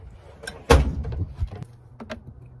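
Center console junk drawer in a 1993 Chevy OBS truck snapping open or shut, one sharp thunk followed by a few softer clicks and knocks, close and quiet otherwise.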